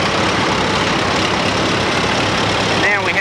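A 1936 Case tractor engine runs in an antique tractor parade, a loud steady low rumble with broadband noise throughout, and a voice comes in briefly near the end.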